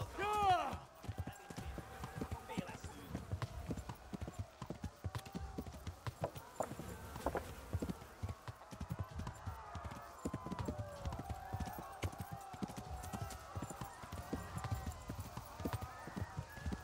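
Horse hooves clip-clop at a steady walking rhythm through most of the stretch in Kingdom Come: Deliverance, with a brief whinny near the start and voices speaking over the hoofbeats.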